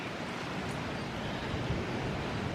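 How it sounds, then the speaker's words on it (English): Steady, gusty wind rushes over the microphone as Hurricane Ian begins to strengthen outdoors. It is a faint, continuous roar with no break. "the wind is picking up"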